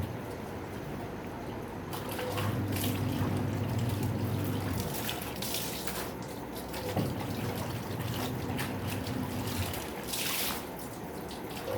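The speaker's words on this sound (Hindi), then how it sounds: "ये कविता की चाय बनी है सुबह सुबह, इसको छान रही हूँ" Freshly brewed tea being strained in a home kitchen in the morning, a soft pouring trickle running for several seconds, with faint clinks and household background noise and no talk.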